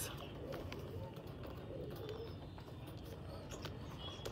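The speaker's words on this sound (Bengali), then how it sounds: "এটা মাদি পায়রা" Pigeons, including a female bird, coo softly and repeatedly at close range, with faint chirps over a low background and someone talking nearby.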